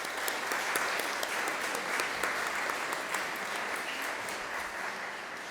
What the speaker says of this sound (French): je crois qu'on peut les applaudir aujourd'hui.